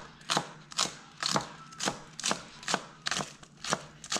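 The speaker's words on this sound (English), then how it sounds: "we cut like a small piece of scallion together" A knife chops a scallion into small pieces on a board, with about nine crisp, evenly spaced chops close by and no talking.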